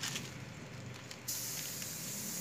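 A spray gun hisses steadily while painting a silver metallic Toyota Avanza body panel, a constant airy rush that steps up louder midway, close and with no talk.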